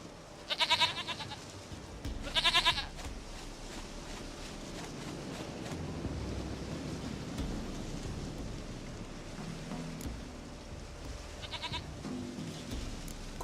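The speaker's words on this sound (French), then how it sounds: "Une chèvre à moi, gentille, douce biquette." A goat in The Witcher 3 game world bleats in short wavering bursts, two close together at the start and another later, over a steady outdoor ambience of wind and low rumble.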